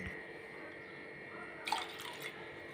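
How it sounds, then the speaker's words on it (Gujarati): Ice-cold water is poured into a sugarcane juice mix, a short burst of splashing and trickling rising near the end over a faint steady hiss. "2 થી 2 ગ્લાસ જેટલું ઠંડુ પાણી એડ કરીશું"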